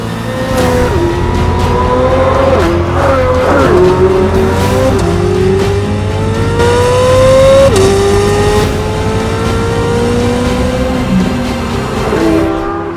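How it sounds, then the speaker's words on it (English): A 2023 Corvette Z06 supercar engine revs hard and drives past close and loud, its pitch climbing and dropping through gear changes over a constant roar. "this is the new Corvette Z06"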